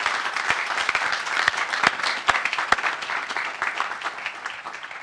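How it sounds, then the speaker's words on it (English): Audience applause at a military graduation ceremony for a war college distance education class, a steady dense wash of many hands clapping together for about five seconds, moderately loud and close, with no speech over it. "if we could have a round of applause for all the people behind the scenes"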